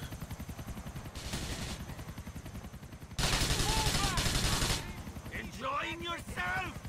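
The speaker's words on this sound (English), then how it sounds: "there's just bombs everywhere" Bursts of rapid gunfire and blasts in the GTA IV video game, loud repeated volleys with a heavier explosive surge in the middle, interleaved with a voice speaking over the action.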